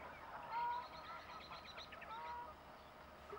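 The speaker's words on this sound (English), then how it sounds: "the old geese are off" Geese honking near a fen while carp fishing, a few distinct calls rising out of quiet outdoor background, moderately distant and fairly faint.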